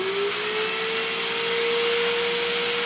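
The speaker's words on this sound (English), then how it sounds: "But if I turn on the vacuum," A FruSun pet grooming vacuum runs with a steady, loud motor whine and airy rush that holds unbroken for about three seconds, with no voices over it.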